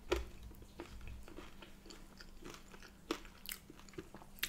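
Close-up eating of crunchy crinkle fries alongside a British sausage, egg, chips and beans tea, with a sharp crunchy bite at the start followed by quieter, irregular chewing and crunches.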